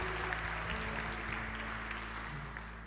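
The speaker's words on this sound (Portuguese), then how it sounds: "Igreja, se é para Ele, pode aplaudir bem forte." Church congregation at a Sunday service applauding, a steady, fairly faint wash of clapping over a low sustained hum and musical tones.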